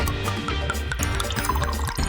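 Water pours steadily to fill a bath, a close, continuous splashing gush with small drips and bubbling ripples throughout.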